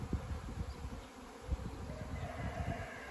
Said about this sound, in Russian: Пасека загудела.